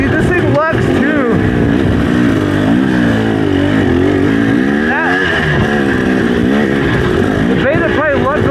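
Off-road motorcycle, a Beta 300RR Race or KTM 300XC two-stroke, lugging at low revs over rocky terrain, a loud close engine drone rising and falling in pitch throughout, with someone talking over it.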